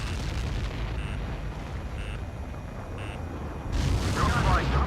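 Repeated electronic warning beeps sound before a Helios airburst missile strike explodes in Ace Combat 7, ending in a loud, rumbling blast.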